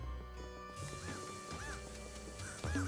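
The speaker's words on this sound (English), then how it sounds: "It's crows." Crows cawing in the video game Luigi's Mansion 3, repeated harsh calls over a busy, steady game soundtrack, with a louder burst near the end.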